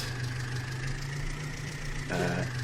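Steady low idle of a tractor engine in Farming Simulator 19, an underpowered machine holding a constant droning hum that swells slightly louder near the end, with no talk over it.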